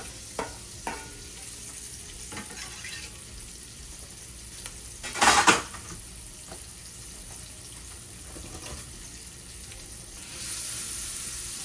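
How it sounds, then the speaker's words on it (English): Chopped large onion sautéing in a pan as the base for gravy with cube steak: a steady, soft sizzle throughout, with a few light clicks and a brief louder stir or scrape midway. "We're gonna let that saute a little bit till it's a little translucent."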